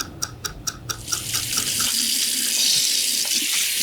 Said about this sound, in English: You wanna wash your hands really good and don't dry them